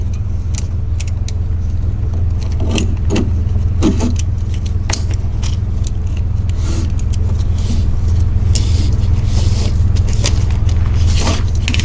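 Keys on a small zip tie jingle in short metallic bursts while a Pride Mobility Baja Raptor four-wheel scooter is unboxed, over a low, constant background hum.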